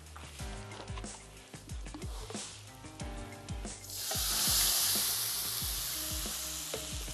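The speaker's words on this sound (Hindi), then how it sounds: "थोड़ा सा हाई फ्लेम पर ही पकाते हैं ताकि सिर्फ हम इनको लाइट सा श्रिंक करेंगे" Ingredients with black pepper for Tom Yum soup cooking in a pan over high flame, a bright, loud sizzle swelling up midway and continuing steadily beneath background music.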